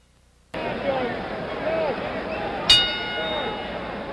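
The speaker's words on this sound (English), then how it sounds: "The bell for round two" In a heavyweight boxing match, George Foreman against Jimmy Young, a single sharp ring of the boxing bell marks round two, cutting clearly through the steady murmur of the arena crowd and leaving a short ringing tail.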